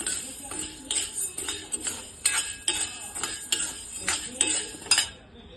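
Urad dal is roasted and stirred in a pan for dal makhani, with a spoon scraping and clinking against the metal in a steady rhythm of close, sharp taps and strokes.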